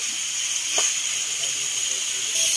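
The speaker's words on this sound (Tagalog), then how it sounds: "Gisa natin maigi para yung lasa niya lumabas." Ingredients for mung bean stew sautéing in a hot pan, a steady loud hiss and sizzle with a brief stir partway through.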